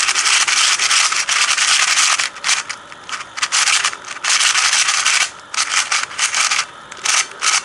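Dry, gritty clicking and scraping as a dry, unlubricated-feeling speedcube is twisted rapidly, in bursts with brief pauses, close and fairly loud.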